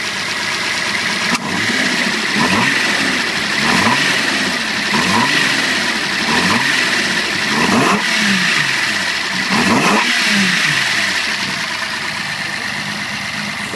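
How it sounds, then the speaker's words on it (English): A Datsun 260Z engine, fed by a carburetor and manifold, revs repeatedly in a series of rising and falling throttle blips over a steady idle, loud and close with no talk. "Give it a bit of a rev."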